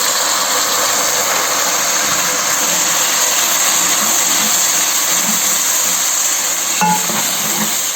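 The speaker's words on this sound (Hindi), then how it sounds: "अब इसमें थोड़ा सा पानी का छिंटा लगाएंगे" Water splashed onto browned onions frying in a hot pan makes a steady, loud sizzling hiss throughout, with a brief flare of crackling near the end. No one speaks.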